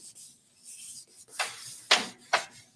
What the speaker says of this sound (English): So what I'm doing now is called burnishing.